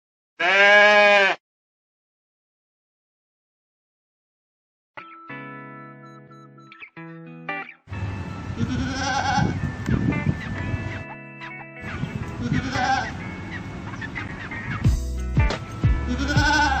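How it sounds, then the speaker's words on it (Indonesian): A loud, close goat bleat, then silence, followed by scattered electronic tones and a busy mix of other animal and ambient sounds. "Kambing."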